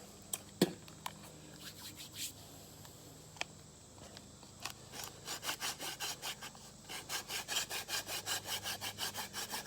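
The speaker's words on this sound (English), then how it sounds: "a hand drill fire that I'm going to do here on the floor in just a minute" Quiet wooden rubbing of a hand drill friction fire on the floor, starting with a few scattered strokes, then settling into a fast, steady back-and-forth rhythm of friction against wood.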